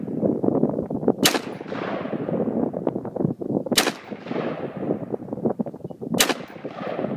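Three loud AR rifle shots ring out at an outdoor shooting range, evenly spaced about two and a half seconds apart. Each crack trails into a long, fading echo.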